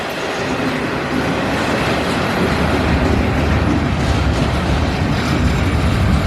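A short CN intermodal freight train with two engines rolls past in Battle Creek, Michigan, a loud, continuous rumble of wheels with clickety-clack on the rails and faint squeals.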